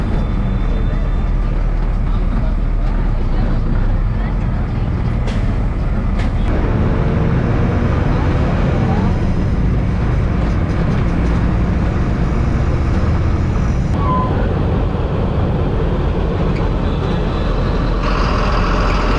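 Continuous low engine rumble and road noise inside a moving city bus in Chennai traffic, with rattles and occasional hisses, stopping at bus stops.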